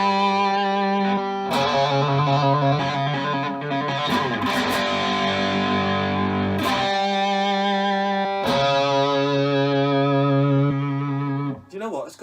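An electric guitar played through a Joyo Hot Plexi overdrive pedal with reverb rings out in sustained chords and notes, loud and close, with brief breaks between phrases and a washy reverberant tail.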